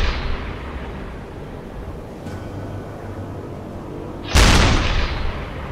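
A submarine deck gun in the UBOAT video game fires a high-explosive round, one sudden loud boom near the end that rolls into a rumble after a quieter ambient stretch.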